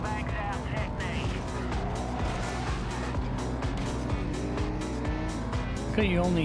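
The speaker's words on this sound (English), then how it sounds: "you only hear car noises for like the actual racers" Racing car engines in the video game Midnight Club 2 whine and rev across the whole stretch as cars pass and shift, with a voice talking over the engine noise.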